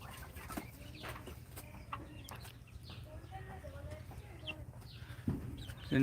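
Desi chickens on a small farm give soft, scattered clucks and short calls over a low background hum, fairly faint and intermittent, with a sharper burst near the end.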